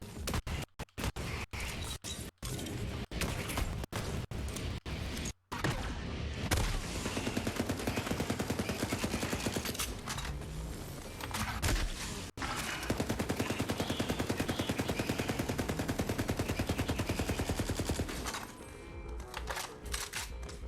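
Rapid automatic gunfire from a Borderlands 3 firefight, loud and nearly continuous, with dense overlapping bursts and brief pauses throughout.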